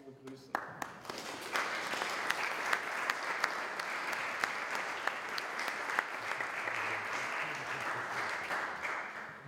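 A lecture audience applauds to welcome Dr. Tobias Lindner at the Landau Peace Lecture, a dense, steady round of clapping that starts abruptly and carries on evenly throughout, with a faint murmur underneath.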